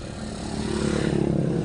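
A 1995 Honda City engine runs steadily just after starting, a close, continuous low idle hum with a rhythmic pulsing that grows slightly louder toward the end, with no talking.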